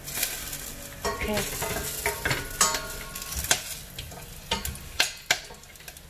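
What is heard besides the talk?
cloves and bay leaves frying in hot oil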